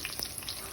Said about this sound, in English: I'm frying my crab.